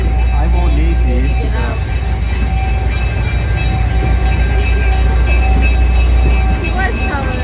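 Steady, loud rumble of a railroad train carrying on throughout, heard from aboard a private caboose on a rare-mileage excursion, with people talking over the continuous rolling noise.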